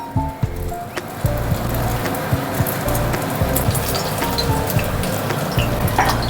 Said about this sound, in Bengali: গ্যাসের ফ্লেমটা একদম লোয়ে রেখেছি, আস্তে আস্তে শ্যালো ফ্রাই হোক।